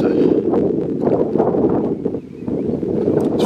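Strong wind buffets a microphone outdoors on an exposed climb in wet, showery Welsh countryside, producing a loud, continuous rumbling roar with gusty surges and no speech.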